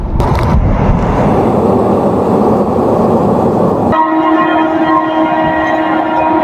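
A Vande Bharat train runs at high speed across a very high railway bridge, producing a loud, steady rolling roar with a shift to ringing metallic tones partway through, and no voices.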